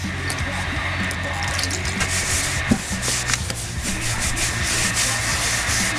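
Grey primer being rubbed down by hand on a Minsk motorcycle part, a steady close scraping and rasping that runs continuously for several seconds with one sharper scuff midway.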